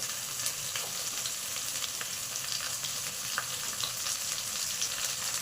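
Drumstick, okra, onion, carrot and tomato pieces sizzle steadily in a pan for sambar, a continuous close frying hiss with faint crackles and no voices.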